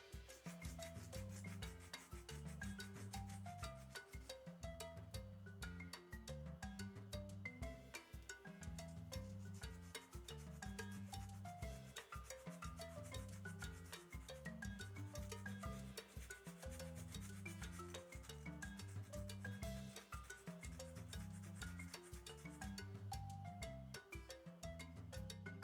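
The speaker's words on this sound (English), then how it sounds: "And now start sanding away the sharp edges." Wet coarse sandpaper rubs the edges of a small leaf pendant, a steady rasping scrape that continues with no breaks, close and fairly quiet.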